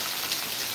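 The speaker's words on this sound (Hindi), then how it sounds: "देख सकते हैं कि कितनी तेज़ बारिश यहाँ हो रही है।" Heavy monsoon rain pours steadily in Madhubani, a dense, even hiss of countless drops drumming on surfaces, close and constant throughout with no voices.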